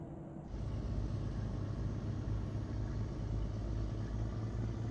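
A 400-horsepower truck in Euro Truck Simulator 2 rumbles steadily while driving, a continuous low engine drone that holds at an even level throughout after a brief quieter start.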